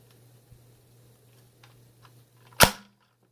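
A K9 Kannon toy launcher fires a dart with a single sharp, loud pop near the end, preceded by quiet background hum and faint handling clicks.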